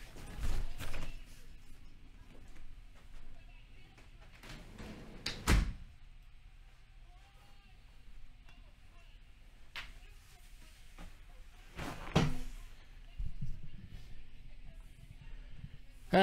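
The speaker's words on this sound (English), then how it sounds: "I got to shut the door so I can actually hear what's going on here." An indoor door is pushed shut, giving a few dull thuds and knocks spread over a quiet room tone, with faint voices in the background.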